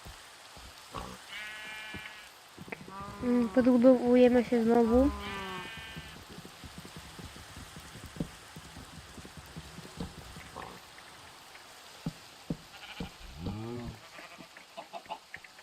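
Minecraft sheep bleat in a cluster of wavering, nasal calls, with a few more later, while someone talks quietly amid clicks and taps.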